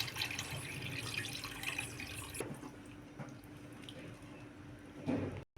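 Tamarind water being poured into a pot of fish curry makes a steady, close liquid splashing and trickling for about five seconds, ending with a brief louder splash before it stops.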